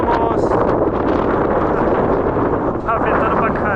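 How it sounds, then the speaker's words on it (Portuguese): Strong wind gusts across the microphone at a cliff edge in the Vale das Pirâmides, Santa Catarina, a loud, continuous rumbling roar with no break. "Tá ventando pra caramba"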